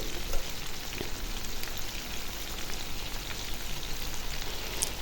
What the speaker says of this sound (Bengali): দেখুন এই যে ভাজতেছি, আমি চিকেনটা ভাজতেছি ভালো করে